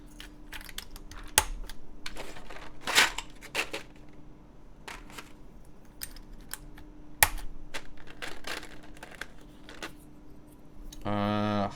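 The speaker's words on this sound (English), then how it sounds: "Easily one of the nicest things of using Topre is when you switch keycaps and you get that little snap" Topre keycaps being pressed onto keyboard switches, heard as a series of sharp little snaps and clicks scattered irregularly over a quiet hum, with a voice speaking at times.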